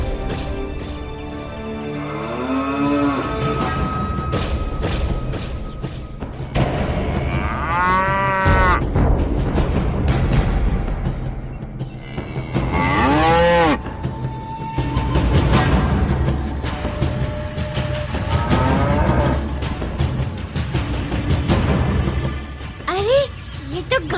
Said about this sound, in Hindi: अरे, ये तो गाय की आवाज है।